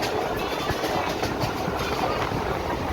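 A train from Tarakeswar to Dakshineswar rumbles steadily near Singur, a dense continuous roar of wheels and carriages with faint rhythmic clatter, heard from on board.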